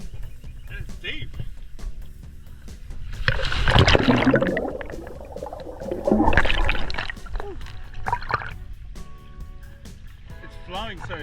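A creek flows strongly, with two loud surges of rushing, splashing water close by over a steady gurgling background, and voices faintly audible at times.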